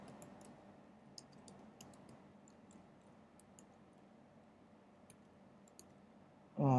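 Light, faint clicks tap out on a computer keyboard in a quiet room, sparse and irregular, before a sudden louder tonal sound cuts in at the very end.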